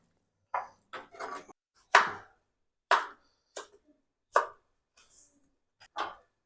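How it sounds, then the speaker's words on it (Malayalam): Tomatoes are chopped on a board in about ten separate, close, crisp knife strokes at an uneven pace, with quiet pauses between cuts and no talking. "അതിനകത്തേക്ക് 2 തക്കാളി കട്ട് ചെയ്തിടാം."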